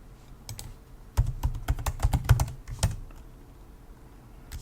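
Password being typed on a computer keyboard during an SSH login to Fedora from Windows 10: a quick burst of about a dozen close, crisp key clicks with a couple of brief pauses, then quiet.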